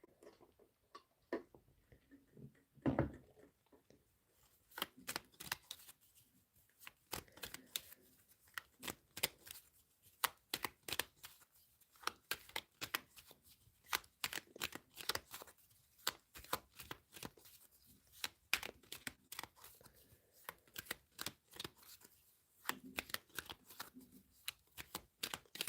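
Tarot cards shuffled by hand, close and fairly quiet, as rapid bursts of crisp riffling and slapping clicks in an uneven rhythm, with short pauses between runs.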